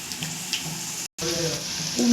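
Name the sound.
chicken pakora balls frying in oil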